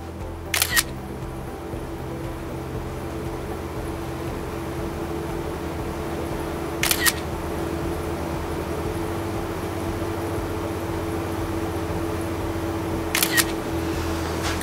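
An iPad photo booth app fires its camera shutter three times at about six-second intervals, each a crisp double click standing out over a steady low hum and background noise, with no talking.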